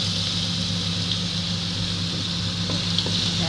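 Ginger and garlic sauté in hot cooking oil in a pan, a steady close sizzle with occasional stirring clinks and scrapes, no talking.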